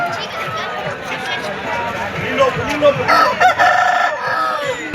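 Several roosters crow and chickens cluck amid a busy crowd at a Sunday chicken market in Pileru, with people talking nearby over the steady market bustle.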